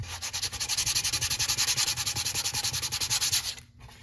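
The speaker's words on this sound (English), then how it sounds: "you can just hit it with sandpaper. Sand it while it's wet." Rapid rhythmic scrubbing of wet sandpaper worked in circular motions over repaired hard plastic, steady back-and-forth strokes close up and loud, stopping abruptly near the end.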